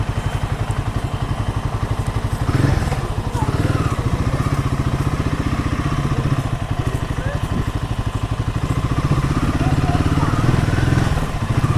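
Royal Enfield Himalayan 450 motorcycle engine idling steadily up close with an even, rapid low throb that holds through the whole stretch, with brief surges and a few light clatters.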